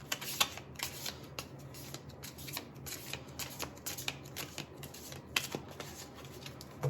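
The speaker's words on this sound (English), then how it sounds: "Let me shuffle the cards." Tarot cards being shuffled by hand, a steady run of crisp riffling and slapping strokes close up, continuous and fairly quiet with no talk.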